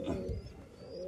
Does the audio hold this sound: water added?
no